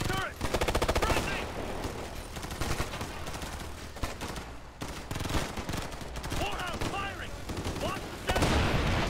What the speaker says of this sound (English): I heard a Gatling gun.